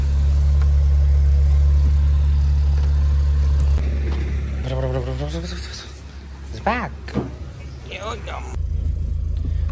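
A stripped-out project car's engine rumbles at a steady idle, loud and close, with someone talking over it toward the end.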